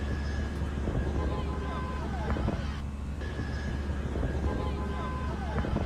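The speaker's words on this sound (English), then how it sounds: "you can still hear the engines winding down" Engines of an Airbus A319 in a flight simulator game wind down, a steady rumble with whining tones sliding lower, heard under a talking voice.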